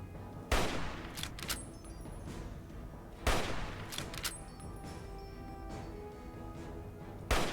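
Turrets fire in the video game Fallout 3, sending out a few loud, sharp bursts of gunfire over a steady noisy background of combat.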